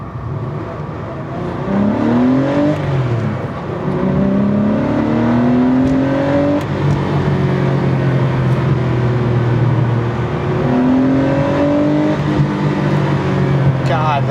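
An air-cooled Metzger flat-six in a rare Porsche 964 RS America rises and falls in pitch through repeated gear changes while driving, a loud close engine note with cabin road rumble and a person talking over it.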